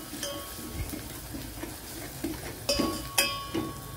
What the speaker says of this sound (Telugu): ఇప్పుడు ఈ మూడింటిని బాగా కలిపేసేసుకుందామండి.